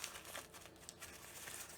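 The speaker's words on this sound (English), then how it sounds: "And you just wrinkle it up a little bit to give it some texture." Newspaper crinkles and rustles as it is crumpled by hand for a craft snowman, a continuous run of crisp crackling over nearly two seconds, fairly quiet and close with no talking.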